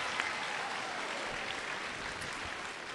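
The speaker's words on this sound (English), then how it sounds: "Let's give one more round of applause for Kenbrell Thompkins." Audience applause at a school event fills the room as a steady wash of hand clapping for about three seconds, even and moderately loud with no pauses and no voices above it.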